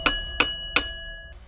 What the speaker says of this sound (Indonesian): sekali lagi aku mendengar suara lonceng